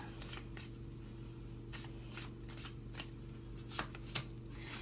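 Tarot cards are shuffled in soft, short riffling bursts, faint and close, over a low steady background hum.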